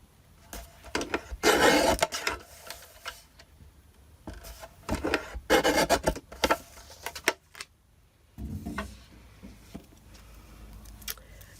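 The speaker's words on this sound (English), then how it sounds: "I'm going to take this panel and I'm going to trim it down." Card panel trimmed to size in a paper trimmer, with bursts of sliding, rasping cuts and small clicks and taps in between, close and fairly quiet.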